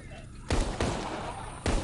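Three booming blasts from explosions in the virtual reality game Arizona Sunshine, sharp onsets each followed by a rumbling decay, loud and close with no pause between the second and third.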